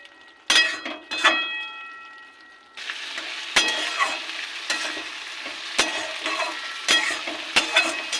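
Bottle gourd curry with fried coconut being stirred as crushed fried lentil dumplings are sprinkled over it, giving soft sizzling and scraping strokes, with a few sharp utensil knocks against the pan and no talk.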